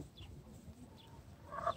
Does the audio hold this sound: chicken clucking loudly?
yes